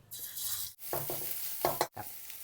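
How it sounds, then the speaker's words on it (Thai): Red curry paste stir-fried in a little hot pork fat in a wok, a steady hiss of frying broken by a few short scraping stirs of the spatula, close and moderately loud. "ตั้งกระทะให้ร้อนแล้วก็ใส่น้ำมันครับ"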